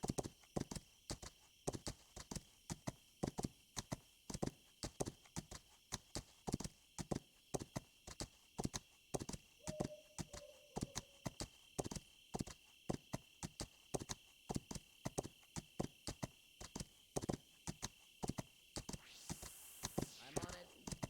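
Steady rhythmic clip-clop of a horse's hooves in the game This Land Is My Land, a long even trot of sharp close hoofbeats over a constant faint background hum.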